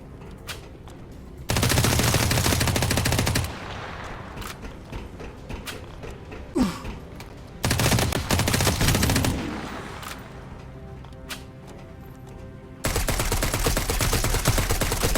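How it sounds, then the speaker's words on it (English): An assault rifle fires in the Dysterra video game during a chemochamber facility assault, with three loud sustained automatic bursts separated by quieter stretches of scattered shots and clanks. "I'm going to switch from using it on the actual core to save it for the mobs, to just use the assault rifle"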